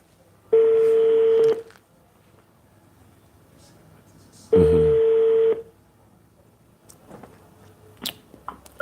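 A telephone placing a call, sounding two long steady ringback tones about four seconds apart, loud and clear, followed by faint background noise and small clicks.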